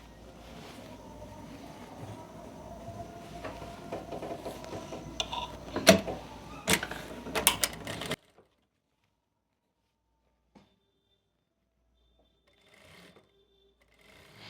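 A sewing machine stitches a sleeve onto an Anarkali kurti, a close rapid mechanical whirr with bursts and pauses for about eight seconds, then near silence with a faint knock or two.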